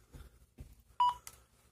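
A Retevis RT36 walkie-talkie with its buttons locked gives short electronic beeps as keys are pressed: a few soft taps followed by two sharp, close beeps in quick succession.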